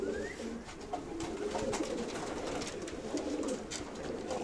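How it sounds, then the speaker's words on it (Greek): Greek butares pigeons cooing in soft, repeated low calls from a flock, heard against a steady noisy outdoor background. "Εμείς ασχολιόμαστε με τέτοια περιστέρια"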